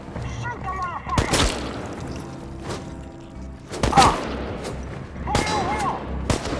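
Gunfire in Chernobylite comes as a few loud, sharp shots spaced across the stretch, separated by rumbling game ambience, with shouting voices between the bursts.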